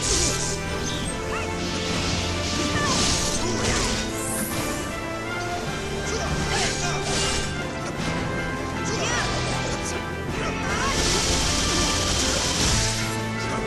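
Loud, dense battle clatter from the Dissidia Final Fantasy NT fighting game as the core is smashed, with repeated crashing hits, whooshes and thwacks layered over a busy game soundtrack throughout.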